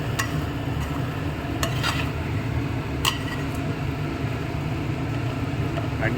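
Ground coconut, shallots and cumin are stirred in a pan over a steady low background hum, with a few sharp scrapes and clinks standing out now and then.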